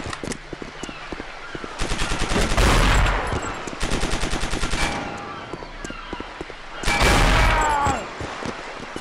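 Shotgun blasts fire in the first-person shooter game Chaser as rapid bursts of sharp, loud repeated shots. They come in clusters with a heavy roar near the end, with possible faint voice in the background.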